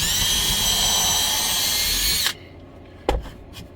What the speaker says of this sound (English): I grabbed my other drill